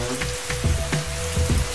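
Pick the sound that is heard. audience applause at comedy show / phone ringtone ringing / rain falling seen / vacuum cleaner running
rain falling seen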